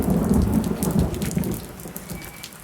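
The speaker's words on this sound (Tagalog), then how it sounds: "Ang lakas naman ng ulan." Heavy rain pours steadily with deep rumbling thunder, loud and close throughout, fading slightly toward the end, with no voices.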